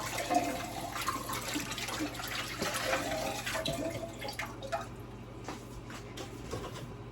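Filtered Brita water pours steadily into a canning pot holding a few floating jars during home tomato canning, a continuous close splashing and gurgling that runs throughout with some faint clinks.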